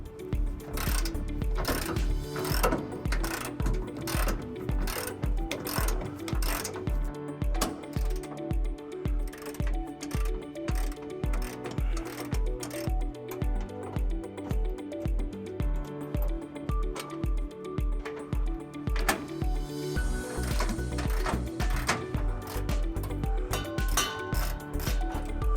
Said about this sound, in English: we're going to go ahead and remove those bolts using a